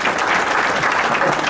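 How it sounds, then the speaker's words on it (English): An audience claps steadily at a book launch gala, a dense, even round of applause from a hall crowd lasting the whole moment. "Let's give a round of applause to our DJ this evening, Mr. James Burgess."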